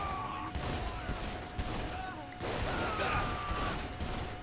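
Sharp pistol gunshots from the game Saints Row: The Third crack out over a busy background with a steady tone, several shots spread across the moment.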